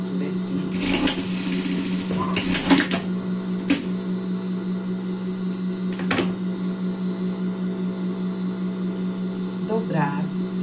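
A sewing machine stitching fabric for a Christmas dress, running with a steady close mechanical whir through most of the stretch, with a few sharp clicks and handling knocks.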